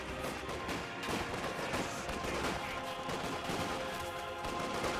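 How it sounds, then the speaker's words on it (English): Rifle fire from German Grenadier infantry in Company of Heroes 2 crackles in rapid, overlapping bursts amid continuous battlefield noise, fairly dense and sustained throughout. "Grenadiers getting some flanking shots there on those intersections"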